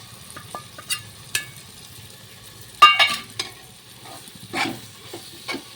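Spices such as chili, turmeric and coriander powder stirred into a hot pan, with scattered stirring scrapes and clinks over a soft, steady sizzle, close and moderately loud with no voices.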